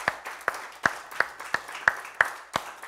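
A church congregation at a Sunday service gives a hand clap: sharp, separate claps land in a steady beat, about three a second, moderately close, with no talking over them.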